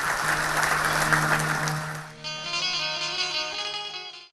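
Applause at a Gujarati comedy show welcomes comedian Shahbuddin Rathod, a full crowd clapping loudly over a sustained musical tone, then fading as a held chord of instrumental music takes over.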